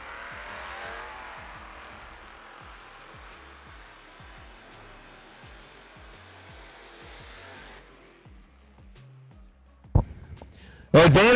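Drag race at a New Year Nationals event between an S10 pickup truck and a 1979 Mercury Capri, a steady roar of racing engines under commentary-style talk, fading after several seconds before sharp loud bursts near the end.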